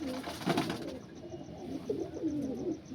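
Young Andhra fullsira pigeons coo softly up close in several low, throaty calls, with some rustling in the background and no talking.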